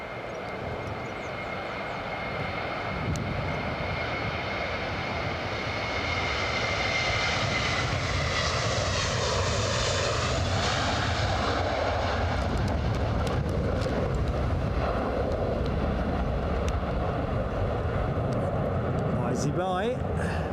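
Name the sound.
Lufthansa plane taking off at Edinburgh Airport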